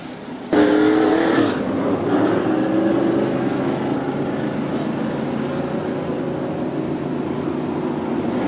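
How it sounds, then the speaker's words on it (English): Touring-series race cars on a short track during a wheel-to-wheel battle into a turn, engines roaring loudly and continuously with a rising rev as a car passes close, then a steady pack drone with no talk. "Wheel to wheel, they touch going into turn three, and Turner spins."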